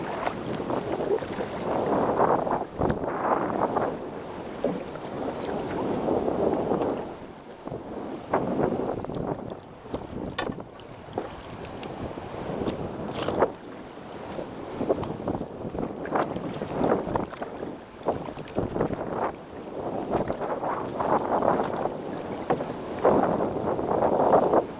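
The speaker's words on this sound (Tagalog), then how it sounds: "Grabe yung hangin mga master." Strong wind roars and buffets the microphone continuously at a mud crab catching spot, gusting louder and softer throughout with no other clear sounds.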